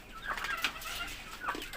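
A Rhode Island chicken clucks softly nearby, a few short quiet clucks spread over a brief moment, with no talking.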